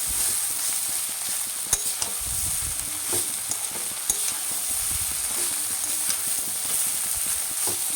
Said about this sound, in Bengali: এবার চাউমিনটা দিয়ে দিয়েছি